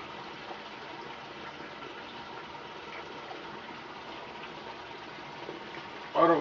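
Tap water running continuously into a sink during a shave, a steady even hiss throughout, with a louder splash right at the end.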